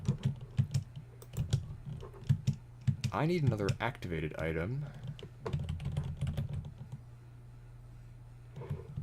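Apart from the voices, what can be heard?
loud computer keyboard typing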